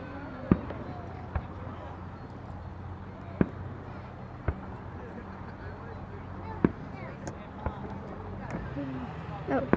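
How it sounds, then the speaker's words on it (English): Fireworks exploding outdoors, heard as a series of sharp, scattered pops and bangs of moderate loudness over a steady low background rumble and faint chatter. "but you can see fireworks."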